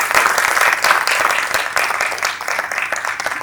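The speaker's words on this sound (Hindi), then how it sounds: "आप लोग जोरदार ताली से स्वागत कीजिए" An audience at a gathering of women sadhus and saints for the Simhastha Kumbh 2026 gives a welcoming round of applause, steady pulsing clapping from many hands throughout.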